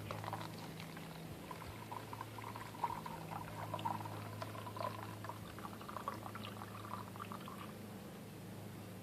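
Liquid poured steadily from a cup during a kitchen-table magic trick, a soft continuous trickle and splash over a low background hum, with no talking.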